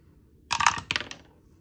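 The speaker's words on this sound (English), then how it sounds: "going to grab our 20-sided dice to see where we're going" A twenty-sided die is rolled onto a hard surface nearby, giving a quick burst of clattering, tumbling clicks that settles into a couple of lighter taps before stopping in a quiet room.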